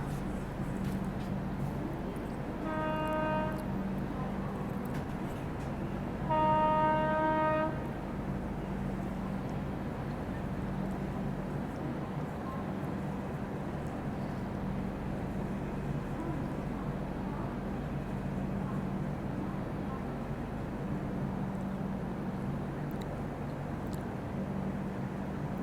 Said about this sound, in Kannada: ಯಾವುದೋ ಟ್ರೈನ್ ನಮ್ಮ ಟ್ರೈನ್ ಓವರ್ಟೇಕ್ ಮಾಡಕ್ಕೆ ಬಂತು ನೋಡ್ರಿ.